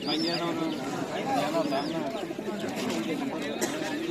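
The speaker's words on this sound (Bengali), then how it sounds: "এখানে এক প্রবাসী ভাইয়ের কবুতর আছে তিন জোড়া কবুতর নিয়ে আছে" Pigeons coo at a busy pigeon and poultry market, their soft rolling calls repeating under constant nearby chatter as people talk over them.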